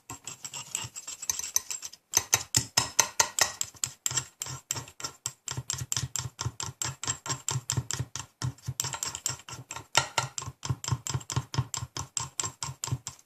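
A metal spoon mixes epoxy resin in a quick, steady rhythm of small clattering scrapes and clicks, moderately close, with a brief pause early on before the fast strokes continue.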